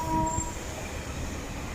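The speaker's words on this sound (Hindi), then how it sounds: "गाड़ी अब अपनी अगली मंजिल यानी शाह अब्दुल लतीफ़ स्टेशन के लिए रवाना हो चुकी है" A Karachi Circular Railway train pulling away from a station, a steady rumbling roll of carriages with faint squealing tones early on, even and continuous, close by, with no talk.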